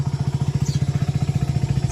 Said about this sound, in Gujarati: આપણે બાઇક ચાલુ કરી નાખ્યો છે